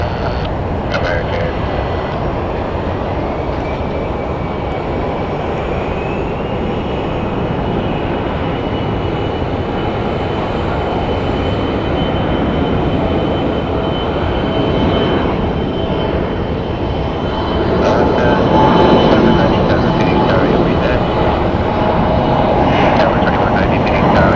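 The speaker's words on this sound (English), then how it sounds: "Our next arrival is going to be American Airlines 2414 coming in from San Francisco, California, Boeing 737-800." A Boeing 737-800 airliner arriving at Phoenix Sky Harbor airport produces a steady, loud jet engine roar that swells toward the end, with a broadband rumble lasting throughout and no pause.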